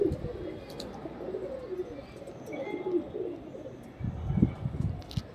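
Rajasthani pigeons coo softly in a loft in Mumbai, low throaty calls that swell in a closer burst near the end, with faint chirps above.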